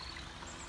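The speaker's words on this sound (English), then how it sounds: "There's a little river." A small river stream near the Tatzelwurm waterfall in the Alps, heard as a steady, close broadband rush of flowing water with no talking.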